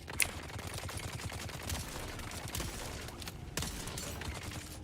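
Gunfire in Dune: Awakening, a steady patter of fairly faint, distant shots with a couple of sharper cracks standing out, and no one speaking over it.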